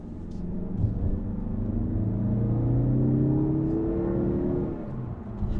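A 2021 Mazda3 AWD Turbo engine accelerates with a smooth, rising hum and rumble heard from inside the car. The pitch climbs steadily, then the engine settles before the end.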